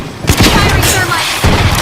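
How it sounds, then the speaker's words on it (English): Thermite round fired in a video game, a couple of heavy booming blasts close and loud, with a voice briefly heard. "Firing thermite"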